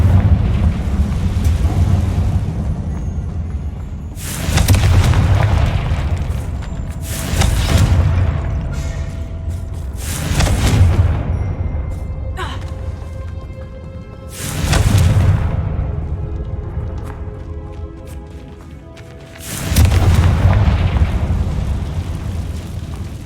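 Confringo blasting-spell explosions in a Harry Potter video game: five heavy booming blasts at a steady interval of a few seconds, loud and rumbling over continuous background noise.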